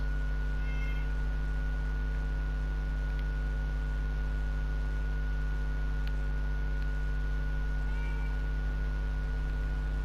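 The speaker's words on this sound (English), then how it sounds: "Dude, move your cat before I step on it." A cat in the Fallout 4 game meows a few times, faint and close, over a steady electronic hum and hiss with no talking.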